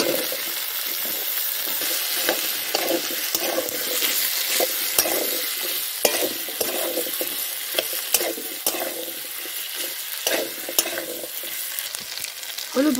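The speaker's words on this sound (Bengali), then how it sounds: "মশলাটা একটু ভেজে নেওয়ার পরে কেটে রাখা আলুগুলো দিয়ে দিচ্ছি।" Cut potatoes go into a pan of frying spices, making a continuous bright sizzle broken by scrapes and clatters of stirring, moderately loud with no voices.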